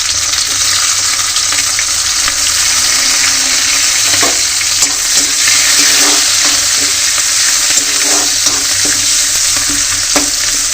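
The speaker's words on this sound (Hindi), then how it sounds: "तो तेल गरम हो गया मैं डाल देता हूँ मीठा नीम पत्ती प्याज" Onions, curry leaves and chili sizzle loudly in hot oil, a dense, constant frying hiss that runs unbroken with occasional crackles and stirring.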